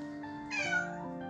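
A lost cat indoors gives a single clear, close meow, short and rising, against a faint steady background.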